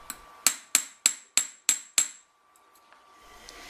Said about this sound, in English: You then hammer the rivet as before